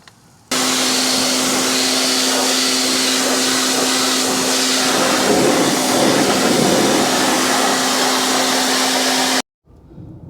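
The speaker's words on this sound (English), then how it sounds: "we got the really light duty little electric pressure washer" A small light-duty electric pressure washer runs steadily and loudly for about nine seconds while spraying an AC condenser on a Chevy P30 Forest River Georgetown motorhome, its motor hum constant with water hiss, then cuts off abruptly.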